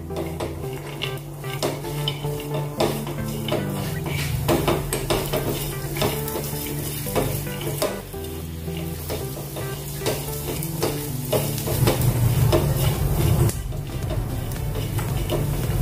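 Grated coconut and almonds dry-roasting in a pan for a coconut laddu, a steady close sizzle and crackle with repeated scraping and stirring strokes against the pan throughout, no voices.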